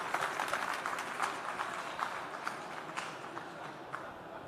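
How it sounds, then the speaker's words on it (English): An audience at a tech conference forum gives a round of applause, a moderate spread of scattered clapping with a few louder individual claps, steady and fairly distant throughout. "Please a round of applause."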